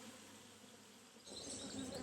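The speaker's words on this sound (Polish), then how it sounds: "wyraźnie widać, że pszczółki latają przodem do ula, więc oblot młodej pszczoły" Honeybees buzz in front of their hive on an orientation flight, a faint, continuous hum that grows a little louder and busier in the last moments.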